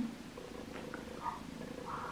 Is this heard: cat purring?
yes